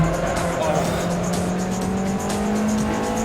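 A Ford Focus touring car races in a video game, its engine droning loud and steady with rising and falling pitch and tyre noise as it runs close and alone throughout.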